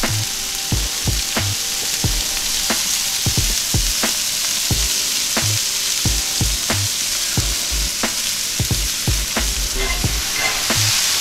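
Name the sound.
frying corn and beans on high heat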